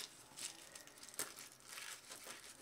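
Paper or similar art material being crumpled by hand at a pop-up art session, a steady run of close, crackly crinkling with a few sharper bursts, no talking.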